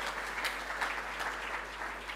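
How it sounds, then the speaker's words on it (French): Audience applause at an award ceremony for a writing competition, a steady wash of many hands clapping at moderate distance, sustained through the whole moment without voices. "André, voilà, on peut les applaudir tout, hein,"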